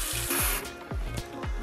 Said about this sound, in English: So we will add a little bit of water.